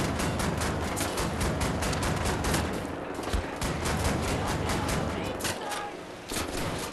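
Sustained, dense gunfire from an equipped weapon in the shooter game Wolfenstein: The New Order, with rapid repeated shots filling the scene, loud and close, and a player's voice partly heard under it.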